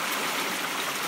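Water rushes steadily through an irrigation ditch acequia's dump sluice gate, a constant, close, broadband wash with no voices.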